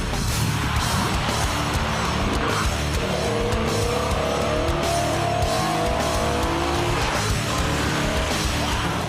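An open-top BMW M3 convertible drives loud and fast, its engine droning steadily close by with rising and falling pitch sweeps and some tyre noise, with no talk.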